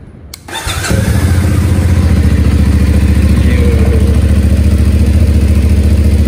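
A 2025 CFMOTO 450SR motorcycle with a 450cc engine starts up after a crank and then settles into a loud, close, throbbing idle with a steady pulse.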